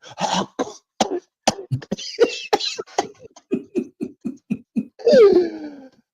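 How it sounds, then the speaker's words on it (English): A woman coughs in a string of sharp, dry bursts, first a few loud harsh hacks then a run of quicker, softer rhythmic coughs, ending in a raspy wheezing breath, close and alone. "And then she started coughing."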